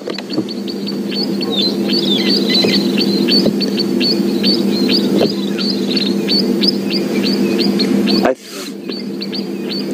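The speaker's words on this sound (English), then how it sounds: "I think what's shouting next to it is the 3-banded plover." A three-banded plover calls insistently on a safari drive in the African bush, giving a rapid, regular series of sharp high piping notes, near and loud above a steady low engine rumble, with a brief knock near the end.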